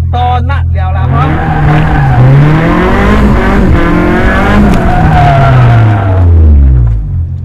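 A car drifts in tight donut circles, its engine revving hard while the tires squeal continuously with rising and falling pitch, loud and close throughout.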